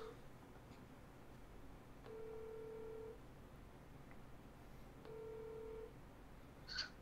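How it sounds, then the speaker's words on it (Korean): Telephone keypad tones sound two separate times as a number is dialed, each burst about a second long over a quiet room, with no talking during the clip. "아름이한테 바로 전화해서 욕해야겠다"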